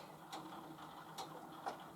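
A sewing machine running stitches through fat quarter cotton fabric while reversing, heard as faint, sparse ticking clicks spaced roughly evenly apart in a quiet room.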